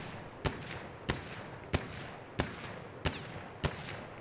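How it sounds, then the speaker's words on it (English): Rifle gunfire in the video game Battlefield 1: six loud single shots fired at an even, deliberate pace roughly two-thirds of a second apart, each with a short echoing tail. "Continue to shoot 7 or 8 rounds."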